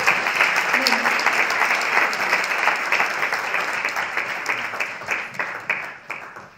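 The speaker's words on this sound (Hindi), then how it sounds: "हमारे कपल्स के लिए जोरदार तालियां हो जाए।" Loud, sustained applause from an audience at a meditation open house discussion, a thick wash of clapping that continues for several seconds and thins slightly toward the end.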